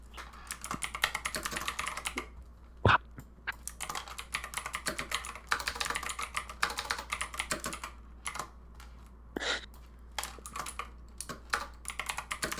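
A clicky computer keyboard clatters under steady fast typing, dense bursts of sharp keystrokes with short pauses between runs, close and alone without talk.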